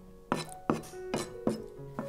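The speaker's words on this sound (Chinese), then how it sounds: "再准备1片花枝，切成大丁就可以了" A knife chops thick, springy cuttlefish into large dice on a cutting board, five crisp, evenly spaced knocks in steady rhythm, close and clear with nothing else heard.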